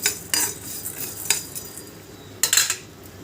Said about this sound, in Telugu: నేను ఓన్లీ ధనియాలు బియ్యం కొబ్బరిని మాత్రమే వేయించుకుంటున్నాను